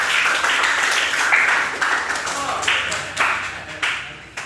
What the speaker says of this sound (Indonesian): beri tepuk tangan sama Esther.